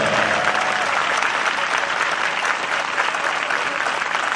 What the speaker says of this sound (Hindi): पवित्र आत्मा के ताली बजाओ सब जन,